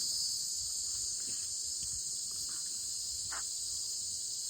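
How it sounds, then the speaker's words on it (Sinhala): Crickets chirping at night, a continuous high, shrill drone that stays steady and fairly loud, alone in a still setting with only faint low rustles beneath it. "මොනවත් නැති රැහැයිය කෑ ගන්න සද්ද විතරයි ඇහෙන්නේ මේක"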